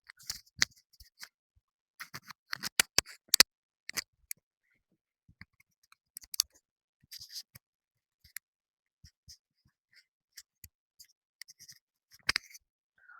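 A clip-on microphone is fastened to a shirt: sparse, soft clicks and light fabric rustles close by, separated by quiet gaps, with no talking.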